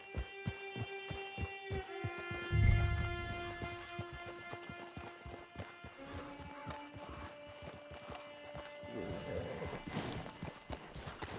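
Steady hoof clip-clop of a horse walking in Red Dead Redemption 2, with a brief whinny-like burst early on and layered game ambience and music underneath.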